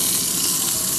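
A kitchen tap runs steadily while hands are washed under it, a loud close continuous rush of water lasting about a second, with no talking.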